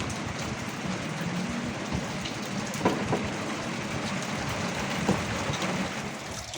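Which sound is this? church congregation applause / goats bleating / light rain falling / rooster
light rain falling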